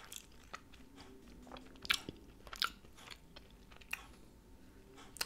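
Someone bites into and chews a crunchy chicken taco from Taco Bell, close to the mic: sharp shell crunches at irregular intervals over steady wet chewing, with no talk.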